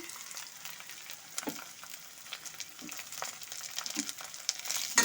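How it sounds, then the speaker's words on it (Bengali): Rice and potato frying in a pan with slit green chillies and grated ginger, a soft continuous sizzle broken by occasional stirring scrapes, close and fairly quiet with no speech. "ভালো মতো করে একটু চালটার সাথে আলুটাকে ভালো মতো করে একটু ভেজে নেব।"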